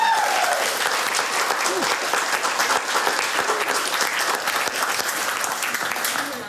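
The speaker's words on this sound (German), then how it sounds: "Applaus." Audience applause at a German song-battle comedy show, a dense, steady wash of clapping sustained for several seconds and tapering slightly at the end.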